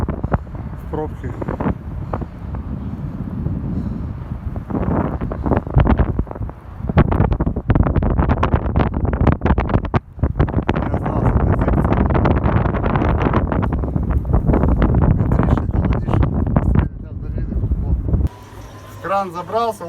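Strong winter wind buffets the microphone at a crane site, loud rumbling gusts that come and go in bursts, with someone talking over parts of it.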